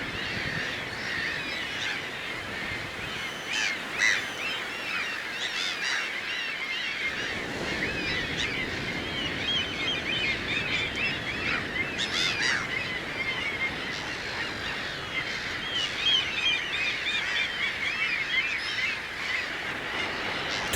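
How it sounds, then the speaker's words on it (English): Thousands of seabirds calling around sea cliffs in the Faroe Islands, a dense, continuous chorus of overlapping honking and squawking cries, steady and fairly loud with no voices. "thousands of seabirds swirled around the cliffs, creating a mesmerizing atmosphere"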